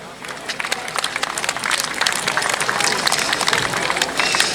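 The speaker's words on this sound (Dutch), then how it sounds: "Dus vooral een applaus voor uzelf." A crowd applauds during the opening day of the Bondsjfees schutterij festival hosted by Schutterij HH. Marcellinus en Petrus, a steady, dense wash of clapping that holds at a fairly loud level throughout.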